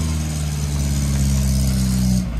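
Engine of a Lada car, a low-budget drift build brought from Russia, idling and running steadily while shifted between reverse and forward, a close, continuous low hum that cuts off near the end.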